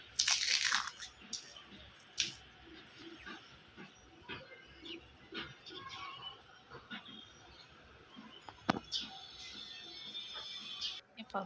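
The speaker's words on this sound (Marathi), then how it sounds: "आता ह्याला मी तोडून दाखवते आणि आवाज पण ऐका तुम्ही हे बघा किती क्रिस्पी झालंय" Close, crisp crunching and cracking: several sharp snaps as a crispy jowar (sorghum flour) dosa is broken apart, with quiet pauses between them.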